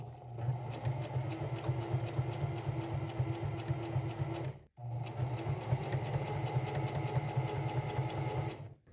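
A sewing machine stitches bias binding onto fabric gift wrap in a steady, fast mechanical whir, running continuously for several seconds, stopping briefly, then resuming at the same even pace, close and clear.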